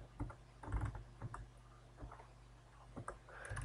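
Quiet clicking on a computer keyboard as a chat command is typed into a Minecraft server, a faint scattered patter of keystrokes over low background hum.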